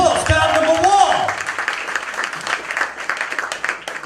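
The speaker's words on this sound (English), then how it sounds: "Take your seat, give her a round of applause." Audience applause at a comedy mind-reading show, a dense wash of clapping that swells and carries on steadily after a voice over the crowd in the opening second.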